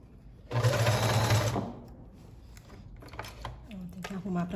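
A sewing machine stitches a seam on fabric in a fast, loud burst of rapid mechanical whirring, then stops and gives way to softer handling noises and someone talking.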